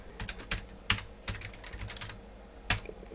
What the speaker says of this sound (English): I'm going to type in what I typed in when I ran DOSBox.